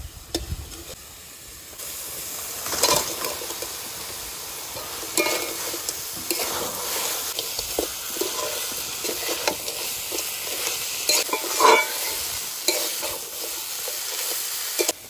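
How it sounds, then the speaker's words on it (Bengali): Fried crab frying in a pan of tomato masala, a steady sizzle and hiss broken by repeated scraping stirs and occasional clinks of a spatula against the pan, with no talking. "কাঁকড়া দেওয়ার পর একটু ভেজে নিলাম"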